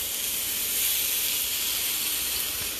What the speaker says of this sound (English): I'd like to sear the outside of that eye and sear the other side too